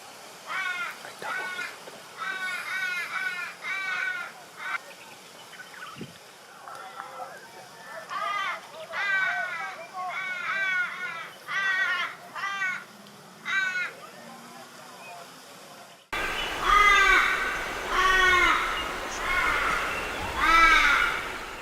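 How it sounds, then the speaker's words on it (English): Torresian crows of northern Australia give repeated harsh caws in bursts, near and fairly loud, with a louder stretch of calling toward the end. "The Torresian crow is common in the northern half of Australia"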